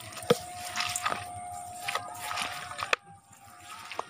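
Hands squeeze and knead a wet mango mixture, producing soft, irregular squishing and sloshing bursts, with a sharp tap or two and a faint background hum.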